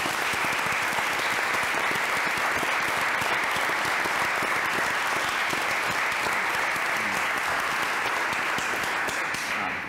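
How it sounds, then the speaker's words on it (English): Sustained round of applause from an audience at a moot court competition, honoring four young competitors; dense, steady clapping holds loud and even for the full stretch with no talk over it. "Let's give these 4 young people a good, solid round of applause"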